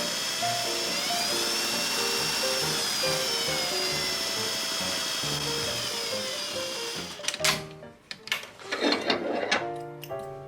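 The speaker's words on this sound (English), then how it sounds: "I'm going to sew them at 5/8." A sewing machine stitching a zipper seam at a 5/8 allowance, running as a continuous steady motor drone for about seven seconds, then stopping into a few clunks and handling noises close by, with no talking.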